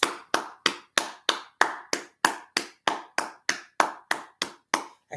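A single person claps hands in a steady, even rhythm, about fourteen sharp claps in five seconds, close and loud, each crack ringing briefly in the room with no talking.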